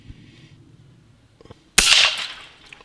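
A single sharp crack from a PCP air rifle firing a .22 pellet, the first shot fired into a pan target, rings out loud and close after near silence, followed by a brief bright metallic ring that fades out.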